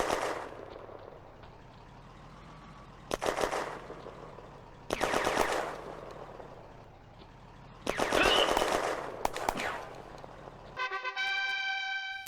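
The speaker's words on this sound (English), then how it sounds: "The French tanks keep up suppressing fire." French tanks laying down suppressing fire in a video game: loud bursts of rapid automatic gunfire come in separate volleys with pauses between them, followed at the end by a steady tonal game sound.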